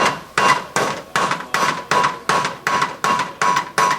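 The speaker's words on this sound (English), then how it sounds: "It will sound dull at first, and then you'll hear a nice ring when it starts to close tight." Regular hand-hammer blows locking a copper roof seam, about nine strikes at an even pace, each with a bright ringing tone, close and loud.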